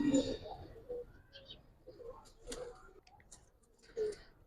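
Soft, low coos of Giribaz silver and colored pigeons on a rooftop, a few brief murmuring calls scattered between quiet gaps, with faint clicks and someone speaking nearby.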